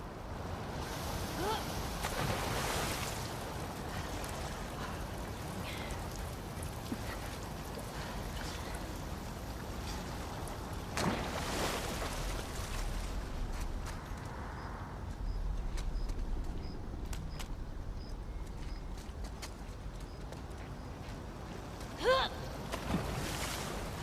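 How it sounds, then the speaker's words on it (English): A fast-flowing torrent of sewer water in The Last of Us Part II rushes as a steady, dense wash throughout, with occasional louder surges and splashes and faint, sparse game tones above it. "the player was faced with a fast-flowing torrent of water they couldn't cross"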